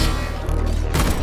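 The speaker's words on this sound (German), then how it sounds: "Ein Schuss. Zwei Schuss. Drei Schuss." Gunfire in the video game Atomic Heart, a loud dense burst of shots filling the clip with a sharp extra blast near the end, over a low droning game background.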